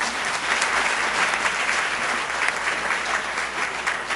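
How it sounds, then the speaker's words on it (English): Sustained applause from the audience for students at a Rochester Board of Education business meeting, a loud, even wash of many hands clapping with no speech. "you can give them another round of applause, the students"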